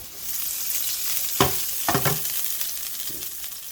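Shrimps fry with garlic in a pan, a steady close sizzle with a few sharp scraping stirs around the middle and a softer one near the end.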